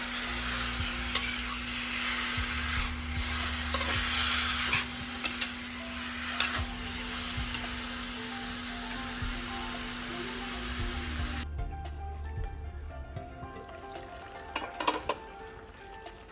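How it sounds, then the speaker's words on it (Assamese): Pork sizzles and fries in a wok while being stirred steadily, a continuous close, loud crackle with scraping stir noises throughout; a steady background hum cuts out partway and the frying carries on alone. "এইফালে গাহৰিখিনি মই এতিয়া মানে কেৰাহীত দি দিলোঁ আৰু এতিয়া তেল ওলোৱালৈকে ধুনীয়াকৈ লৰাই থাকিম।"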